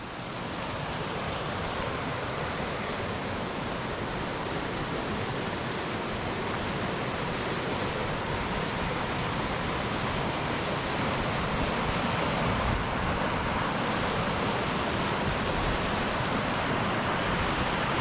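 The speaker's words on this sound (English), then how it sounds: "I've just popped into this little roadside river location" A low, crystal-clear river flows at a roadside spot at Parnabrugg in Scotland. A steady, dense wash of rushing water runs unbroken and fairly close, with no voices.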